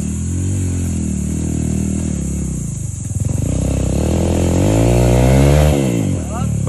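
A Yamaha XTZ 125 motorcycle engine revs on a dirt trail, a steady mid-pitched drone that rises as the throttle opens near the end, with a person talking over it.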